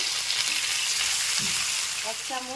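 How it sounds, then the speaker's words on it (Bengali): Ginger garlic paste sizzling in a hot pan with a splash of water, a steady frying hiss broken by scraping stirs from a spatula, with brief faint voice near the end. "1 টেবিল চামচ আদা রসুনের পেস্ট দিয়ে 1 মিনিট মতো নেড়ে চেড়ে কষিয়ে নিয়েছি।"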